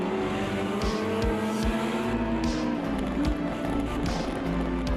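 Race car engine in the sim racer Automobilista 2 at Road Atlanta, a steady droning whine with rising pitch sweeps as another car passes, tyre noise underneath and a few brief ticks.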